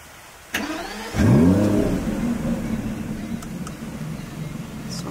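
A 630-horsepower Aston Martin with an in-house-built engine cranks and fires up loudly, revs sharply once, then settles into a steady, rumbling idle close by.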